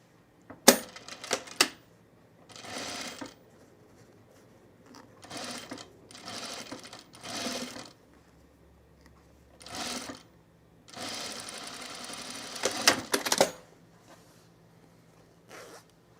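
A sewing machine stitches a boho tunic in several separate bursts of steady whirring, with short quiet gaps between runs and a longer run near the end; close and fairly quiet, with no talking.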